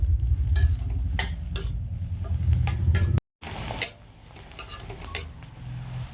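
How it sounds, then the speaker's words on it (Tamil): Onions sautéing in a pan with curry leaves, a steady sizzle under repeated scraping and clinking strokes of a spoon stirring against the metal pan, close and busy. "கொஞ்சம் நல்லா கோல்டன் ப்ரௌன் வர வரையும் வதக்கிக்கிறலாம் வெங்காயத்தை."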